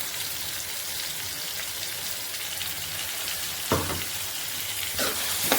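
Ground masala paste, made with tomato and onion, sizzles steadily in a hot pan, a constant close hiss with a couple of brief louder bursts near the end, no voices.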